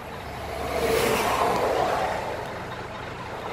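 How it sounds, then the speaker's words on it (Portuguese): A truck passes at a delivery site in Belém, its engine rumble swelling to a peak midway and fading off again, fairly close and with no talk. "parece que tem bastante caminhão aqui hoje"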